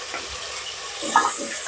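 Onions, tomatoes and green chilies sautéing in a pan for a mutton curry, a brief close sizzle with a stirring scrape that grows louder partway through.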